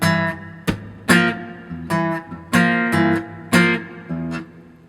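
Acoustic guitar played slowly with fingerstyle technique, thumb and first finger plucking the bottom notes between percussive slaps on the strings, in a solo live acoustic arrangement; a close, clear passage of picked notes broken by sharp slap hits.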